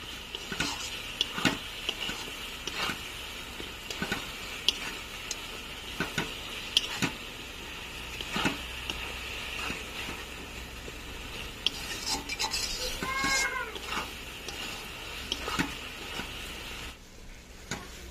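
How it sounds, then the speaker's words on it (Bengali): Spice paste with a little sugar being stir-fried in a pan for potol chingri, with steady sizzling and repeated scraping strokes of a spatula throughout, close and continuous. "এই মশলাটাকে ভালো করে কষে নেব।"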